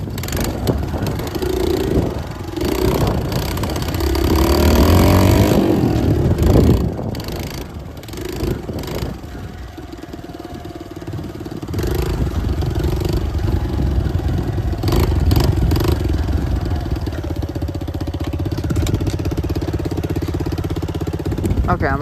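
Motorcycle engine running steadily during a ride past old vehicles, a loud mid-low drone with clattering surges and rising-falling revs, dipping briefly midway before returning strong throughout.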